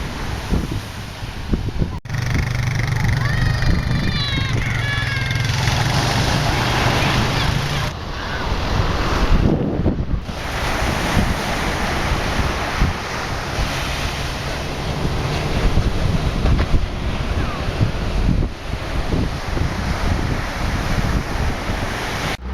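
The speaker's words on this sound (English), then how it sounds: "got some pretty big waves right now" Big ocean waves crash and roar continuously onto a beach in Oahu, Hawaii, with gusty wind buffeting the microphone throughout.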